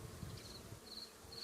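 Honey bees at a beehive during the adding of a second storey, producing a faint, continuous buzzing hum with no voices.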